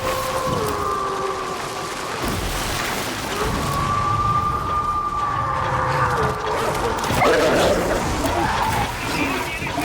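Snarling game dogs in Darktide, a Warhammer 40K shooter, heard amid sustained combat noise, with droning tones, booms and scattered effects continuing across the whole stretch.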